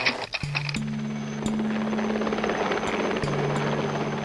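A helicopter of the kind that carried Thierry Sabine in the Dakar rally, heard as a steady rotor and engine drone with a low, sustained hum throughout. No voices.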